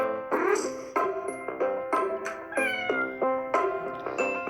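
A cartoon cat in a game meows over and over, bright and close, about eight tonal mews in a steady run with no voices over them.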